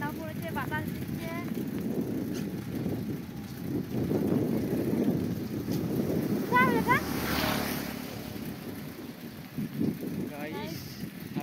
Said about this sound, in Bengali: ঠান্ডাও পড়েছে, বাতাস দিচ্ছে।